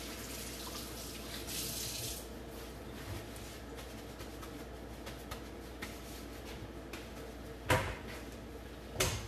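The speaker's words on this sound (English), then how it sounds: "wash my hands. I'll be right back." Water runs steadily from a tap at a kitchen sink during hand washing, a soft continuous splashing hiss with a couple of faint clunks near the end.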